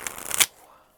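A tarot card deck is shuffled in a quick, close riffle of papery flutters that builds to a sharp snap, then cuts off into near silence.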